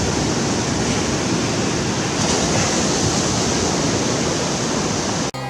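Small ocean waves break and wash onto a beach at sunrise, a steady loud roar of surf with dense hiss filling the clip and no voices.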